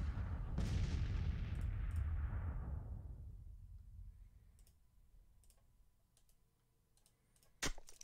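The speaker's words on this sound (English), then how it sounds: "we do have the batteries opening up now" Artillery batteries opening fire in Grand Tactician: The Civil War, a rumbling volley that rolls and fades over several seconds, followed by scattered distant clicks and one sharp late report.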